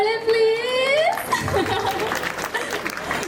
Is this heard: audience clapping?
yes